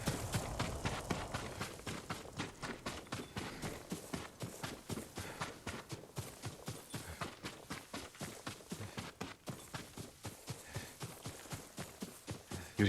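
Horse hooves clip-clopping in the video game Ghost of Tsushima, a steady rhythmic series of close, distinct hoof strikes at a brisk pace throughout.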